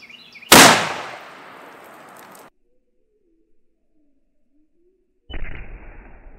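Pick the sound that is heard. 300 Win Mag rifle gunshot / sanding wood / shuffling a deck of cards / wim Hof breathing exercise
300 Win Mag rifle gunshot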